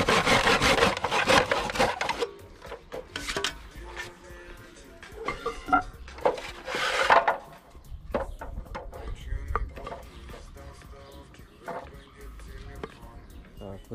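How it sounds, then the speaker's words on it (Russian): Hand saw cutting small wooden bars for a dog kennel, rhythmic rasping strokes in bursts with pauses between, close and fairly loud, with a voice speaking briefly. "Собственно, пилим из того, что есть."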